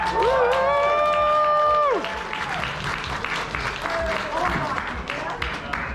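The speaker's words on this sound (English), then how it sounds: "How about a huge round of applause as well for Brian Dauchois?" A convention crowd at the Trotcon 2023 guest-of-honor Q&A claps and cheers loudly; a sustained whoop rings out over dense applause for the first two seconds, then steady clapping continues to the end.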